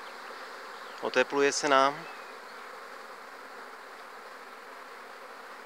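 Bees buzzing steadily around blooming apple and pear trees and flowering rapeseed in spring, a constant mid-level drone throughout, briefly under a short spoken phrase.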